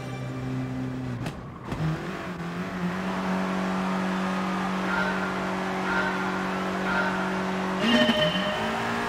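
A field of 18 race cars gets underway at Interlagos in Gran Turismo, engines droning steadily with rising revs, tire squeal and a brief skid near the start and end.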